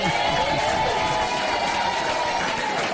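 Steady crowd applause and clapping from an audience at a Swahili arts event at Loresho secondary school, dense and continuous for a few seconds with a speaker's voice over the top.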